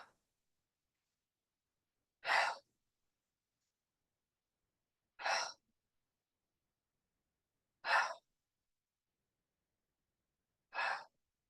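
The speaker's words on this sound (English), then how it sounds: "pulse it out or exhale quickly as you turn to the right" Four short, sharp breath exhales pulsed out during a chair yoga twist, spaced about three seconds apart with silence between, close and moderately loud.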